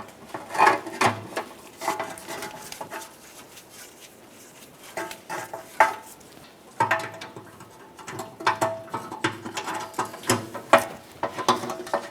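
A hand ratchet snugs up oil pan bolts on a 1994–2002 Dodge Ram 2500, with bursts of quick clicking pawl strokes and pauses between bolts, close and moderately loud.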